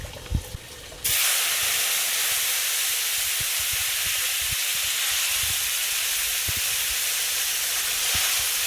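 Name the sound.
garlic frying in a pan before bottle gourd is added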